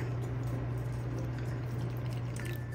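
Vinegar pours steadily into a pan for tokwa't baboy, a soft continuous liquid trickle over a constant low hum, no talk.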